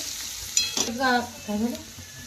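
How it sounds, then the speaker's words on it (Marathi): Chutney roasts in hot oil in a pan, giving a soft sizzle with a few scraping stirs and brief clinks close by, over about two seconds. "आपल्याला चटणी जरा भाजून घ्यायची तेलामध्ये।"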